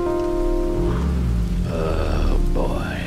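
Rain patters steadily for about three seconds on a comedy show, mixed with a low droning tone and shifting musical or synthetic sounds.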